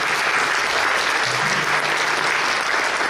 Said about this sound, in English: They deserve our applause.